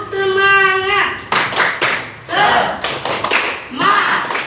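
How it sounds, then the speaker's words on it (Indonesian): A class of schoolchildren performs a rhythmic spirit clap, sharp hand claps in short patterned bursts mixed with children's chanting voices and a teacher speaking at the start. "Tepuk semangat."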